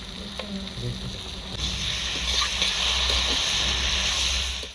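Whole spices such as cumin and black pepper, together with red chili powder, frying in oil in a pan for fish curry, a close, steady sizzle that grows louder midway and carries faint stirring clatter.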